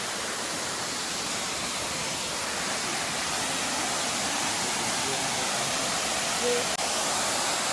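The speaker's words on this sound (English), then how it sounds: "Really nice waterfall." The Adelphi waterfall in Grenada roars steadily and loudly, a constant broad rush of falling water.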